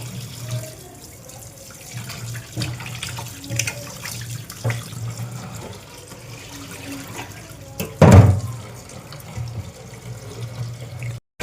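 Cold tap water running over raw chicken pieces being scrubbed clean in a sink, a continuous near splashing flow with a low hum and one louder splash surge, alone without talk.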